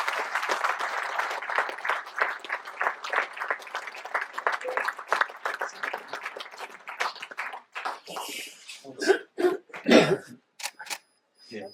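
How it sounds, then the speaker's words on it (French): An audience at a mayor's New Year greetings ceremony in Cruguel applauds in a hall. The crowd claps steadily for about eight seconds, then the clapping thins to scattered claps with some murmuring and a cough. "Merci Henri, on peut l'applaudir."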